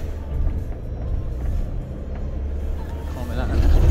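Interior of a shuttle service vehicle driving to a car rental pickup in Mallorca, a steady low engine and road rumble that swells louder toward the end, with no one talking.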